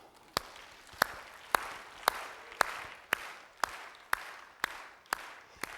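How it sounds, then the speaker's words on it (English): A congregation at a Sunday church service claps together in a steady, even beat, about two claps per second, the sharp synchronized claps ringing over a low room murmur. "let's just do it. Let's just clap."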